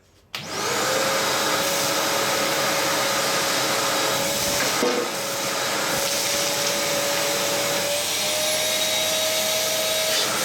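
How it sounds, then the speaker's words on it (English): A Karcher WD3 wet/dry vacuum runs loud and steady at close range, its motor drone holding a constant pitch while it sucks up debris and bits of stick, with a brief dip in the airflow partway through. "Now if I suck this up, well I'll suck half of it up anyway"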